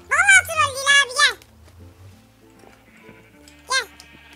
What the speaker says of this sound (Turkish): Lan koyun sesleri.